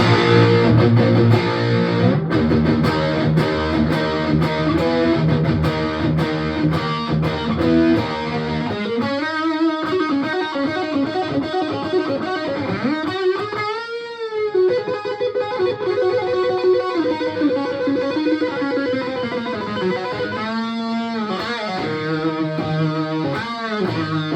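An electric guitar plays through a G4M GA-20E mini half stack amp with drive at 3 o'clock, gritty chords and sustained bending notes ringing with a warm distorted edge, no voices.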